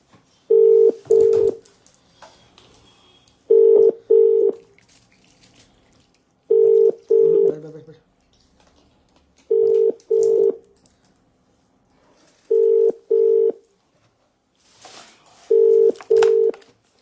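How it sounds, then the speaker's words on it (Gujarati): A phone call rings out unanswered: a clear ringback tone repeats six times as double pulses, each about three seconds apart with silence between. "ઇમરાનભાઈ ફોન નથી ઉઠાઈ રહ્યા."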